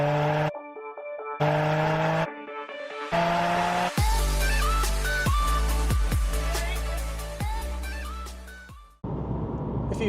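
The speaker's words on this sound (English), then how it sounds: "We're going to take it for a test drive now because the running fault's been fixed." A Ferrari 550 Maranello on a road test after a fuel pump fix revs hard through the gears, its engine note rising and dropping between shifts, loud and close, with the sound cutting in and out.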